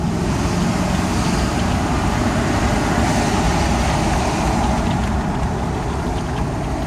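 An LB7 Duramax diesel truck engine runs steadily while driving, a constant broadband road and engine roar at close range with no talking.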